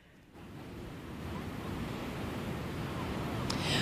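Ocean surf rolls in at Jacksonville Beach on a busy holiday weekend with rip current risk: a continuous wash of breaking waves and wind buffeting, swelling in after a quiet start and growing slightly louder, with no speech.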